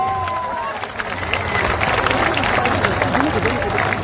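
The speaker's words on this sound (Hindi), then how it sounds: "मैं एक बार चाहूंगा कि सब लोग ताली बजाकर स्वागत कीजिए" An audience at a Jan Suraaj party event claps steadily in dense, sustained applause as someone speaks over it.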